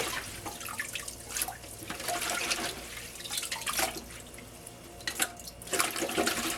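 Tap water runs steadily into a sink while basil stems are rinsed of sand, a continuous close splashing wash with brief louder surges and light drips, no talking.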